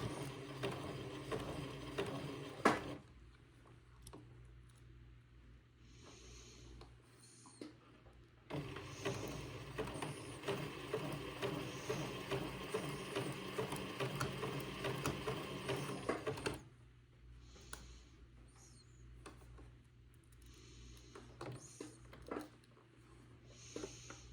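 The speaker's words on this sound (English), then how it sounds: "I'll begin to zigzag this other piece of lace on" A sewing machine zigzag-stitches a piece of lace onto a baby bubble garment, running in two steady, rapid mechanical bursts separated by quiet pauses, close and alone without talk.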